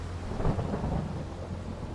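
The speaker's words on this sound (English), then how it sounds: "It has been raining heavily" Heavy rain pours steadily in Sherlock Holmes: The Awakened while deep thunder rumbles and swells through the downpour, a dense, continuous stormy wash with no voices.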